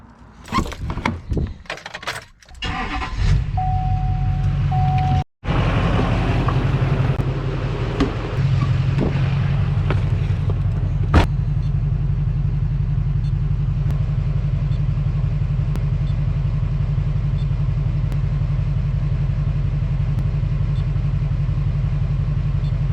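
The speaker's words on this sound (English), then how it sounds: "let's install this piece, start the truck, and then see how the EGT system works" A truck engine cranks and catches after a few seconds of handling noise, then settles into a constant, close idle that hums on unchanged for about twenty seconds.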